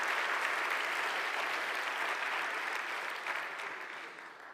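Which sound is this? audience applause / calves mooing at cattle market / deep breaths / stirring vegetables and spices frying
audience applause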